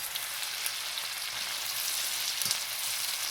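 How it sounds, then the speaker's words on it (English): Mushrooms sliced and frying in a skillet with caramelized onions and peppers, giving a steady, soft sizzle with a brief louder crackle burst midway and no talking. "They will go ahead and cook with the caramelized onions and peppers."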